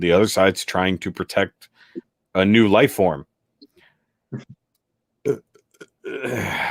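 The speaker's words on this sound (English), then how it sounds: "That was a burp." A single throaty burp breaks into a casual two-person discussion of an anime episode, close and abrupt between stretches of talk.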